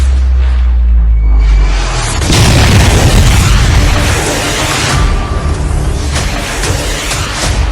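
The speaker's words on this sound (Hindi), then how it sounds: "और पिछले दिनों ये ब्रह्मोस मिसाइल का टेस्ट भारत ने किया है।" A BrahMos missile test launch, heard as a heavy deep boom that swells into a loud roaring blast and rumbles on for several seconds, close and overwhelming.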